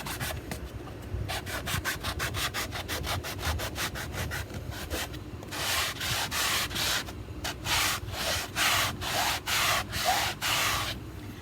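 A stenciled cabinet door is hand sanded in steady back-and-forth strokes, fast and close at first, then slower and louder toward the end, with no talking.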